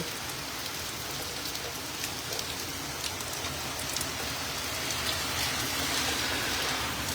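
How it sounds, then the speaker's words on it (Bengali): Steady, heavy rain pouring down continuously in New York, a dense hiss of drops drumming on surfaces with no voices. "অনেক জোরে বৃষ্টি নামছে"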